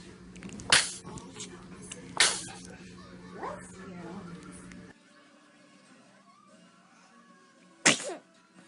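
A baby sneezes three times in separate short, sharp bursts, spaced a couple of seconds apart and heard up close, with soft voices and faint babbling in the gaps between sneezes.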